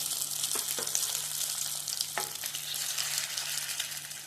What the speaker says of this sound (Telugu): ఆయిల్లో చికెన్ వేసుకున్నామండి